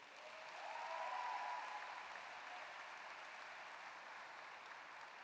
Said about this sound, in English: Let's give them one more round of applause for assisting us in our opening ceremonies